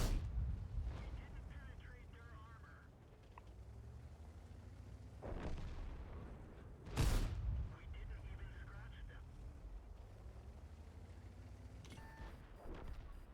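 Tank cannon shots in World of Tanks on the Serene Coast map from a T54, with a few heavy booms, the loudest near the middle, over a steady engine rumble and battle noise.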